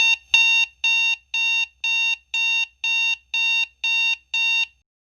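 An alarm clock rings in a clear, loud series of about nine evenly spaced electronic beeps, a steady repeating pattern with no voices.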